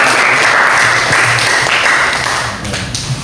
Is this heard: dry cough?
no